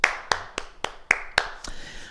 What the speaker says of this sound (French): Et on s'applaudit, mesdames, messieurs